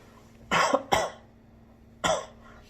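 Three sharp coughs into a sleeve, muffled and close, two in quick succession followed by a single one after a pause, with a faint steady hum underneath.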